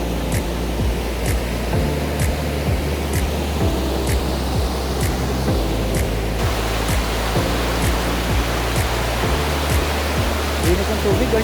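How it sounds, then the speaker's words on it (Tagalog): Rushing water at Magdagagdang Falls in Davao, a continuous loud wash of falling, churning water, close by and unbroken throughout, with faint voices underneath. "Pero ang tulin pa na nagragasan ng tubig."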